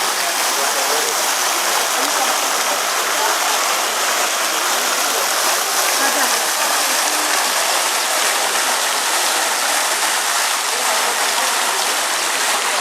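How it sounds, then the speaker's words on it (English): A water fountain in the palace garden of the Alcazar of Seville splashes with a steady, dense rushing hiss that stays constant and close for the whole stretch, with no voices on top. "Quite a water fountain here."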